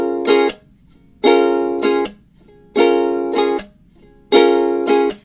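A ukulele strummed open with no chords fretted repeats a down, up, slap pattern four times, bright ringing strums followed by a muted percussive slap, close and loud with short gaps between cycles.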